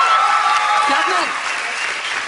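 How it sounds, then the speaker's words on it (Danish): An audience applauds during an X-Factor 2011 television show, a dense, steady wash of clapping that fades slightly toward the end, with a voice faintly audible underneath. "Klap nu."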